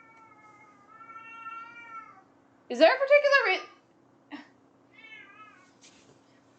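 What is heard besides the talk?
pet cat meowing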